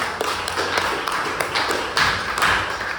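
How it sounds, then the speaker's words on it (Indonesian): Classroom clapping for a student group, a few hands tapping in loose, uneven rhythm over a noisy room background, moderately close and fairly loud. "Sekarang tepuk tangan dulu untuk kelompok 2."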